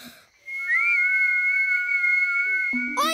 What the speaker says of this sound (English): Please, can you show me how to whistle again?